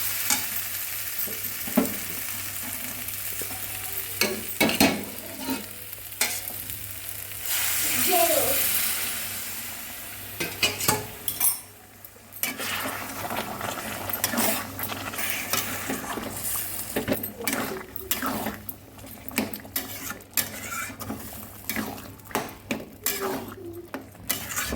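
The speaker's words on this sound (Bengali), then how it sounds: "তো একটুখানি গরম জল দিয়ে দিই।" Hot water goes into a pan of sizzling, well-fried masala, with loud hissing, scraping and clinking of a spoon as it is stirred; talk is heard intermittently over the cooking.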